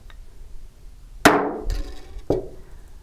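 A hammer strikes a metal design stamp on a pendant blank, two sharp ringing hits about a second apart with a faint knock between them, close and clear in a quiet room.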